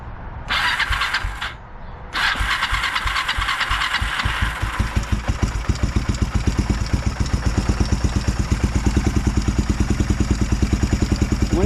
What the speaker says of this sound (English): The engine started with no problem